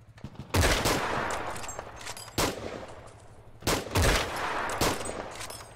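Rapid bursts of gunfire in a video game, loud and sharp, in several clusters with brief gaps between them and no talking.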